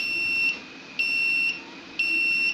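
A water consumption monitoring controller gives three short, evenly spaced electronic beeps as it switches to automatic mode. The tones are high-pitched and sharp, with quiet in between.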